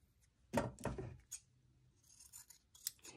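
Scissors snip through a tiny piece of fabric for a sports ball pillow, two close crunching cuts followed by softer rustling and a few faint clicks in a quiet room.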